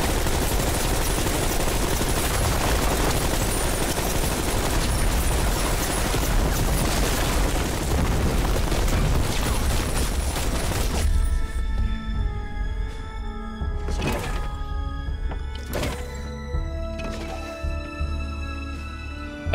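Heavy gunfire in a fight scene from the film Animal: a dense, loud, sustained barrage of rapid shots and booms that suddenly drops to sparse single cracks over quieter music and ambience.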